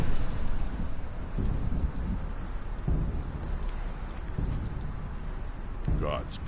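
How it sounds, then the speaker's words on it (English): A sandstorm roars through the game world of Conan Exiles, a dense, continuous rush of wind with occasional gusty swells and crackles, a faint voice mixed in. "Gods curse this sandstorm."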